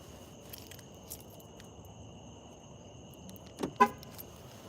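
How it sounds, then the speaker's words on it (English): A parked car is locked outside a creepy abandoned cemetery, giving a short electronic chirp and a brief horn toot near the end over a steady hum. "let me get my car locked up."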